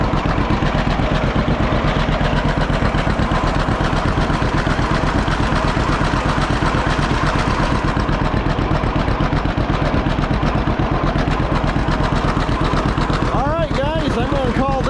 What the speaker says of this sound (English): the old John Deere B don't run too bad